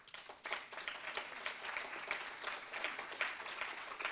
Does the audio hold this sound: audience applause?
yes